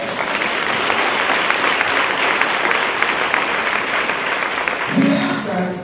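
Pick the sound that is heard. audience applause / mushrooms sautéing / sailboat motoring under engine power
audience applause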